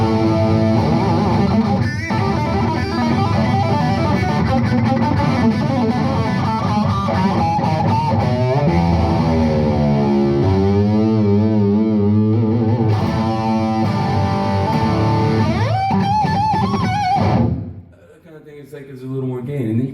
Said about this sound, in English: But the overdrive pedal comes in here.